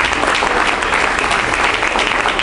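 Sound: audience applause for Prophetess Jackie Lawrence

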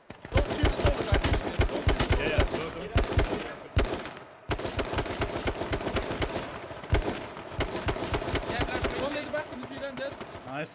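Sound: gunfire in a video game shootout

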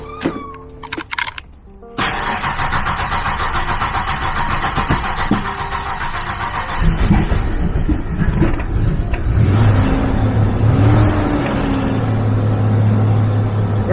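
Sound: 30-year-old Ford Explorer engine cold start

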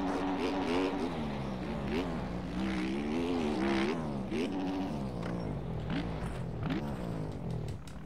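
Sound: 250 dirt bike engine racing in MX Bikes video game

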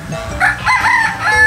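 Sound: bird calling at an eco-park orchard

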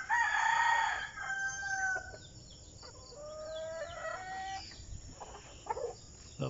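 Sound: backyard chickens clucking and rooster crowing

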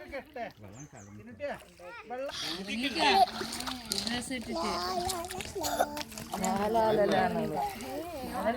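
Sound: splashing while swimming in water

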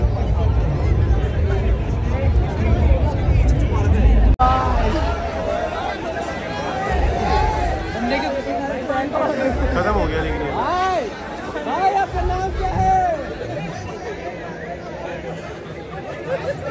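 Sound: crowd of students chattering at college fest

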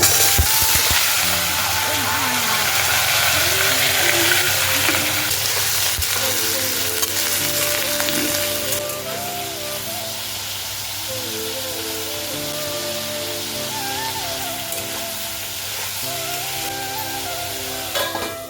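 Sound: cumin and potatoes frying in hot oil

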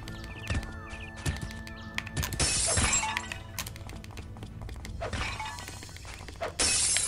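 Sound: glass bottles shattering in Way of the Samurai 4 video game

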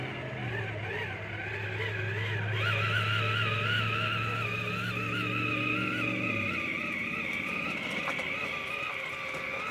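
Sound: Traxxas TRX4 RC crawler with Castle motor driving

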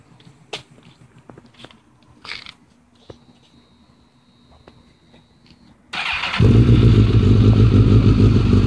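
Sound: 2006 Suzuki GSXR1000 motorcycle engine running

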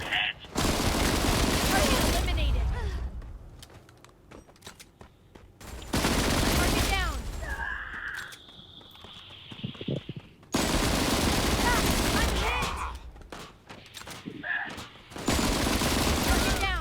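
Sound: gun firing rapidly in video game Disorder

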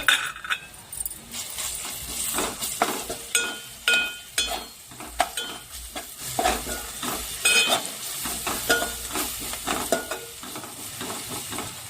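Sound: prawns frying in a pan with turmeric

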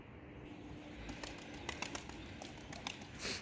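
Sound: young pigeon landing on roof, wings flapping

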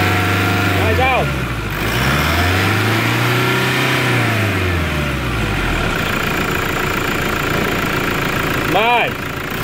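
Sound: Toyota Hilux turbo engine revving

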